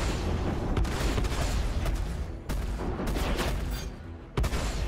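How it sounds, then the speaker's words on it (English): Weapons fire hammers a player's ship in the Star Citizen space-combat game during a Vanduul swarm battle, a dense rumbling barrage of booms and blasts that keeps pounding with brief dips, loud and close, with no voices. "Yeah, I'm taking fire."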